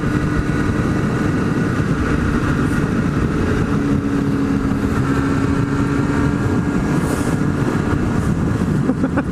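Two-stroke motorcycle engine running steadily and loud throughout, with a dense continuous drone and a faint rising tone mid-clip, heard close with no talking.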